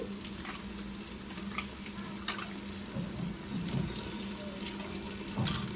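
Prawns dropping into a pan of cooked-down tomato masala, with a steady low sizzle and frying crackle plus a few sharper splashes and stirring clatters, close and fairly quiet, no talk.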